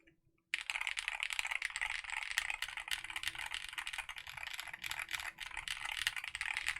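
Fast steady typing on a Ne065 HE mechanical keyboard fitted with new beige keycaps, close and continuous after a brief quiet start, with rapid dense clacks and a faint rattle.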